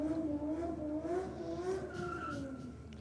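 Supercharged Holden HQ drag racing car under full boost at a drag strip, its engine note rising and climbing steadily in a loud, continuous pass with no talk over it.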